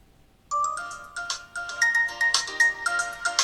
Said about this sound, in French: je vais vous faire écouter la sonnerie du téléphone